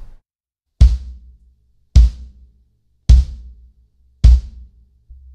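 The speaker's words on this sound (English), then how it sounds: "And then I'm gonna use a hard beater with the coin and moleskin." Kick drum with moleskin and a coin taped where a hard beater strikes the head, played as five evenly spaced, loud, punchy hits with a sharp clicky attack and short low boom, alone.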